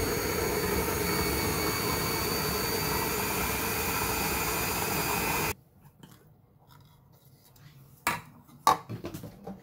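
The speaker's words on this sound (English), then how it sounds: "Pinuhin po sa food processor or blender kung ano ang mayroon sa inyong tahanan." A kitchen blender or food processor purees butternut squash soup with a loud, steady whirring roar that cuts off abruptly, followed by a few clattering knocks of utensils and containers.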